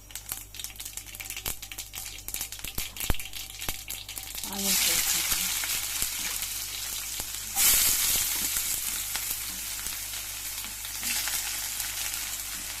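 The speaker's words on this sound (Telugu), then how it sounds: "నూనె కాగిపోయిందండి బాగా ఆవాలు జీలకర్ర కొద్దిగా వేసినాను" Mustard seeds and cumin hit hot oil in a pan and set off a sizzle that swells partway through, with sharp popping clicks scattered across it and no talk.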